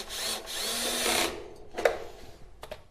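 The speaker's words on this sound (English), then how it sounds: "The pieces get connected with metal sheet screws, just like that." A power drill drives sheet metal screws into outdoor kitchen framing: a sustained whirring burst lasting about a second, then a brief sharper clack and a few faint taps.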